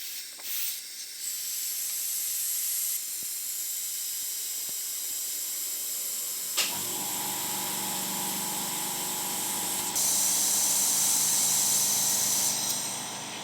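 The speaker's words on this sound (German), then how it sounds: "jetzt gebe ich hier oben auf den vollen Behälter so 1 bis 2 Bar Druck" Compressed air hisses steadily as a full brake fluid reservoir is pressurised to about 1 to 2 bar for bleeding the clutch on a VW Passat B7, a continuous close hiss that shifts tone and grows louder after a sharp click.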